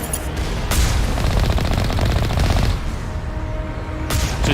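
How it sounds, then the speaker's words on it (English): Sustained rapid turret gunfire in Mass Effect Legendary Edition, a loud dense burst of automatic shots with booming impacts, with no talking. "They're getting fancy with these turrets."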